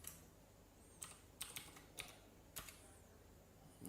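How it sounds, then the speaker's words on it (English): Quiet clicks of a password being typed on a computer keyboard, a handful of separate keystrokes spaced irregularly, close and faint against a low room hum. "type in your password"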